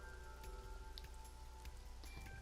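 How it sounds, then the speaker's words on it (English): Rain patters steadily on a parasol in AI: The Somnium Files, soft and continuous with scattered drop taps over a low background hum. "Parasol is getting pelted by the rain."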